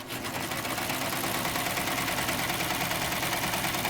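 A serger sewing machine runs steadily, cutting and stitching around a large circle of fabric with only a little of the edge trimmed, its motor a dense, continuous whir held at a constant level for the whole stretch.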